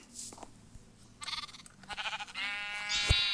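Several Minecraft sheep bleat one after another, the calls getting longer and louder toward the end, with no talking.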